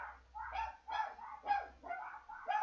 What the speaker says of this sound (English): Because they're barking at something.